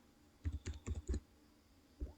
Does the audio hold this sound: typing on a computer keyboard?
yes